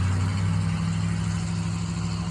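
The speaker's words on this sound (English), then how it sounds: "you heard the truck." A steady low engine rumble drones throughout, close and continuous, like a truck idling or running nearby.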